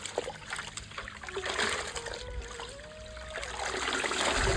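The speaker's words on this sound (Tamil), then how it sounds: "இந்த மாலையை முதல்ல போட்டு நல்லா இப்படி அலசிடலாம்" A vetiver garland being rinsed by hand in water, giving a steady wash of trickling and sloshing splashes that builds slightly toward the end, close by and with no voices.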